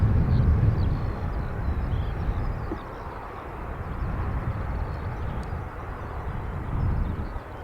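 A British Airways airliner arriving from London City at Dublin Airport, a broad low jet roar rising and falling as it passes, fairly loud and steady with no talk over it.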